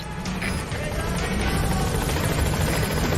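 Pequod, the transport helicopter in the video game Metal Gear Solid V: The Phantom Pain, arriving at a landing zone, its steady rotor roar and broad engine rumble filling the whole stretch at constant, loud level.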